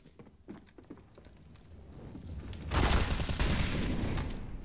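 Gunfire in the video game CS:GO, including a Colt rifle, comes as scattered shots followed by a louder dense burst of rapid automatic fire, fairly faint overall.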